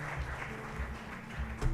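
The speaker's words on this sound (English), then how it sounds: "Please give him a big round of applause." Applause from a symposium audience of Asian legislative experts: continuous, fairly faint clapping at a steady level, with no voices over it.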